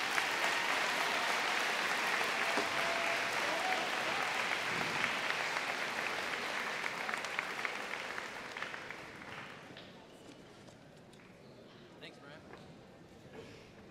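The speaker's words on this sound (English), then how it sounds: "join me, please, in giving a big round of applause for the 2023 Social Studies Student of the Year" A high school senior convocation crowd gives a sustained round of applause for Social Studies Student of the Year Ethan Woodcox; the clapping starts full and loud, then tapers off to scattered claps with faint voices.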